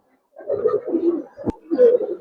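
Lal Dom pigeon cooing close by, a series of soft low throaty coos in two bursts separated by a brief sharp click, with no talking.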